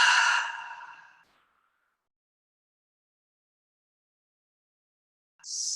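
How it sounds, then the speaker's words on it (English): A long breath exhaled during a yoga class, breathy and close, fading out over about a second, then silence before another short breath begins. "Exhale your breath all the way."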